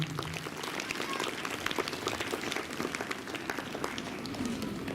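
Students applaud at a school event, a dense, steady patter of many hands clapping throughout at moderate distance, with no voices over it.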